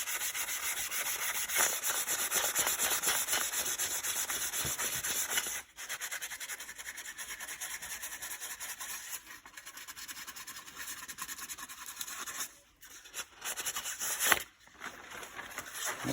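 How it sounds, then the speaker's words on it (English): A turned slimline pen blank is sanded with the grain on a lathe, a steady close rubbing hiss over a motor hum, broken by a few short pauses. "Now I'm going to sand with the grain."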